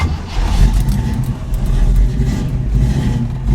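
A 1957 Chevy car engine runs close by, a loud, rough low rumble with uneven surges as it revs, continuous throughout.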